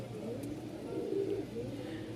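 Pigeons coo at a pigeon farm in Mirpur-1, Dhaka, soft rolling coos repeating close by over a low hum of many birds.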